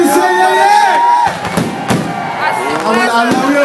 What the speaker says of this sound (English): watch this beautiful fireworks